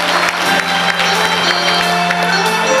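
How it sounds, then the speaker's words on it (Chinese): Audience applause fills a televised singing competition hall, a dense, steady wash of clapping with scattered cheers that stays loud and even throughout without a break. "掌声鼓励鼓励"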